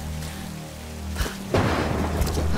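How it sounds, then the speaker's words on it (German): Thunder in Tomb Raider Definitive Edition: after a low, steady background rumble, a sharp crack swells into a loud, deep boom with rain-like noise, heard alone and close. "Es donnert."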